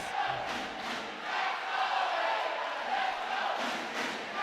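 A basketball crowd in a cup semi-final cheering on its feet, a broad roar of many voices that swells and falls in waves, rising toward the end of the third quarter.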